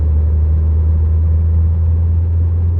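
Ford C-Max engine and exhaust under full throttle in fourth gear, after a software remap, a steady loud low droning rumble that holds throughout with no break.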